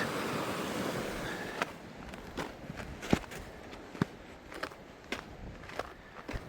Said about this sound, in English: Here's the water below Mirror Lake.